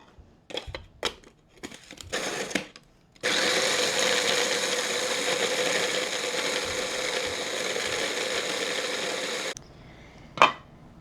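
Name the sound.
grinder grinding cheesecake crust ingredients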